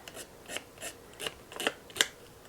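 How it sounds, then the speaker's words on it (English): Fine 220-grit sandpaper rubs a small tip for a doll fireplace, making a run of quiet, close, raspy scratching strokes in an uneven rhythm. "So get a little bit of sandpaper and get as fine a grit as you can."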